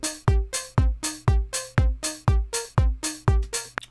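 A chord progression plays from a piano roll in Logic Pro as eight evenly spaced piano chords, each struck cleanly and left to decay, with no talking.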